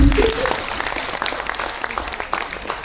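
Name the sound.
audience applause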